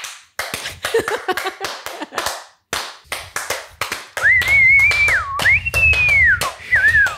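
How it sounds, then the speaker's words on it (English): A burst of hand clapping from a small group, sharp close claps in an uneven rhythm for several seconds, then a wavering whistle-like tone and a low rumble over continued scattered claps. "I think this is not a compulsory applause."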